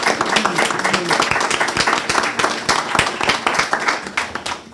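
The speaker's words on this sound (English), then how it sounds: "Let us pause as we give a round of applause to our" An audience at the 2022 National Spelling Bee gathering at Cable Beach in the Bahamas applauds the 21 contestants. The clapping is lively and close, with dense, rapid hand claps that hold steady throughout and carry no speech.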